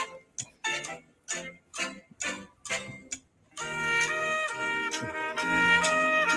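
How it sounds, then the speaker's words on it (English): A game-show countdown clock ticks in a steady, evenly spaced rhythm of sharp tocks, then loud music swells in and plays over it, with no talking during the clip. "The clock is clicking."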